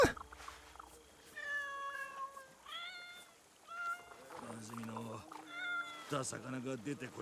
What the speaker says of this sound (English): And now we also have the Calico Kitten.